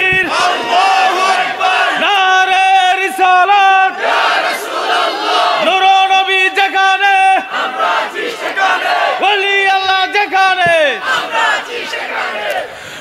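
Large crowd at a Bangladeshi Islamic waz sermon gathering shouting a slogan in loud, repeated rhythmic chants, voices rising in unison in several bursts across the span.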